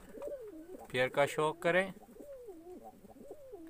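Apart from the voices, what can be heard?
pigeons cooing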